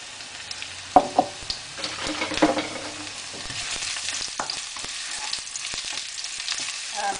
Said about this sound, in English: So first you put the oil, not much, a little bit, and then garlic